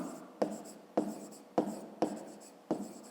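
Pen scratches on paper during a fifth-grade maths exercise, five short strokes at a steady pace, close and clear with no talking.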